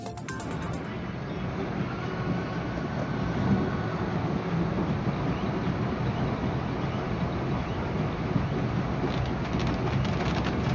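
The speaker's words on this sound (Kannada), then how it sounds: "ಮಲೆನಾಡಿನಲ್ಲಿ ನಿನ್ನೆ ಸಂಜೆಯ ನಂತರ ಮಳೆ ಮತ್ತೆ ಮುಂದುವರೆದಿದೆ" Heavy rain falls over the Malnad hill region as a dense, steady hiss that stays even and unbroken from start to end, with no voices heard.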